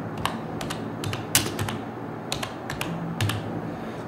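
Typing on a computer keyboard while entering text in Google Docs, with irregular sharp key clicks in small clusters over a faint steady room hum, close and clear, no speech.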